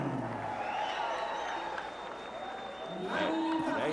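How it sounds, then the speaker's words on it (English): Capacity crowd at a boxing arena, the Mandaluyong City Sports Complex, cheering and applauding after a knockout, a steady roar under a commentator's voice that swells near the end. "There you see Manny Pacquiao being raised to the jubilation of the capacity crowd here at the Mandaluyong City Sports Complex"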